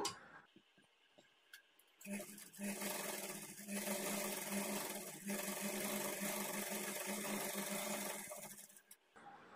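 A sewing machine runs a long continuous stretch of stitching along a folded blouse sleeve, humming steadily with a faint mechanical tick. It starts up after a short quiet pause and stops just before the end.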